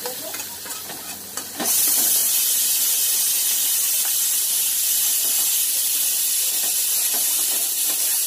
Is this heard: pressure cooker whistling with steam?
yes